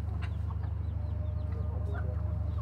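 Chickens on a four-storey rooftop garden cluck and chirp in scattered, overlapping calls over a steady low mechanical hum, moderately close.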